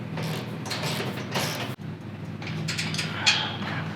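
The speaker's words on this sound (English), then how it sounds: "I'm just going back as promised and retightening up this riser bolt" A tool works on the roof rack riser bolts of a Toyota 4Runner fitted with an Ironman 4x4 alloy flat rack, giving a close mechanical scraping and ratcheting, with a sharp click near the middle and another near the end.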